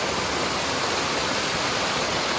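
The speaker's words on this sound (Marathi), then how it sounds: "इथला धबधबा असा आहे" River waterfall in the Konkan, a constant broadband rush of water that stays loud and unchanging throughout, with nobody speaking.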